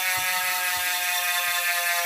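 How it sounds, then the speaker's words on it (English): Rapid, steady metallic ticking of a 36-tooth bicycle freehub ratchet as an Elite Velo 6 carbon disc wheel spins freely, loud, close and continuous. "This is a 36 tooth ratchet I hear."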